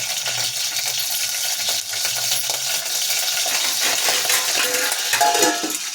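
Green chillies splutter in hot oil in a pan for a chutney tempering, a continuous crackling and popping with sharp metallic clicks that swells slightly toward the end.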